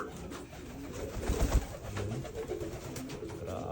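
Black check racing pigeons coo softly nearby, low throaty calls repeating over a steady background hiss of rain.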